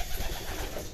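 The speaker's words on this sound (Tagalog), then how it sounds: "Palalabasin ko yung mga ibon." Racing pigeons cooing as they are let out of their loft, a soft throaty murmur from several birds over a broad, busy background.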